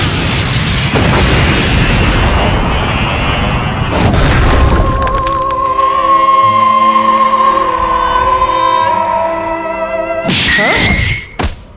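Loud cartoon energy blasts from Dragon Ball Z Abridged's Big Bang Attack boom out in several crashing bursts, with a ringing, sustained electronic tone humming between them.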